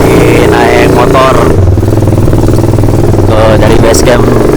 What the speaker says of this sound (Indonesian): Kita lagi naik motor